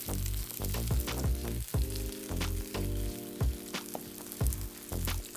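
Hoagie buns toast in butter on a Steelmade flat top griddle at medium-high heat, giving a steady close sizzle broken by repeated soft thumps and scrapes as the buns are moved around.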